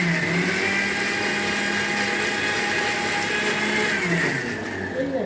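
A mixer grinder grinding onion runs as a steady, loud motor whine with a continuous high buzz throughout, dipping slightly near the end.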